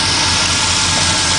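A car engine, with its RPM managed by a Unichip unit, idles steadily at around 500 to 600 RPM, giving a loud, continuous drone with no pauses and no voices.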